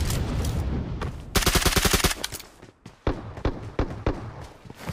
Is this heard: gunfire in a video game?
yes